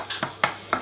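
Onions cook gently in simmering oil, with soft sizzling broken by four short stirring scrapes.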